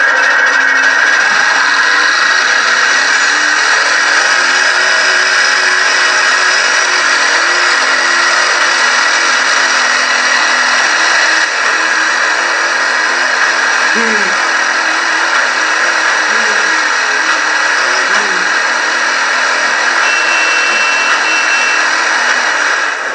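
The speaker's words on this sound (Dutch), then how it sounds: "Nu doen we de Proto Hornet. Dat is een van de kleinere boten." Proto Hornet, the smallest boat in the racing game The Crew 2, running at full speed: a steady, loud, high-pitched engine whine that holds almost unchanged throughout, with faint shifting tones from waves.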